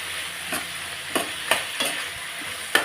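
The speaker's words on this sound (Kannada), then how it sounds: "ಇದು ಹಾಕ್ಕೊಂಡು ಫ್ರೈ ಮಾಡಿ" Frying tomato chutney ingredients and curry leaves in a pan with steady sizzle and five sharp scraping stir strokes at irregular intervals, close up, no talking.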